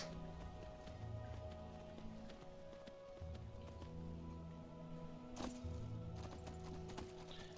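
Horse hooves galloping in the video game Skyrim, played on Xbox, a steady rhythmic clip-clop running under a low music bed throughout, moderately close.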